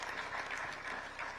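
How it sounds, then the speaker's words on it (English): Conference audience at a national development plan event clapping to welcome a speaker, a faint, distant wash of steady applause throughout the short moment. "loud hand clap."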